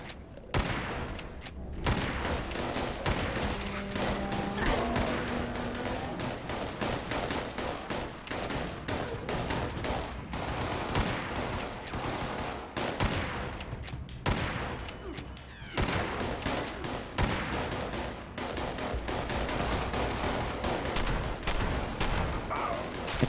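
Rapid gunfire from a weapon in the video game Fallout 76, dense bursts and sustained automatic fire with heavy booms, loud and close, with brief pauses between volleys.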